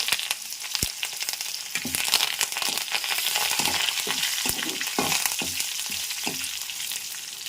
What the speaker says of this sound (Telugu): ఎండుమిర్చి వేసేసాను కరివేపాకు కూడా వేసేస్తున్నాను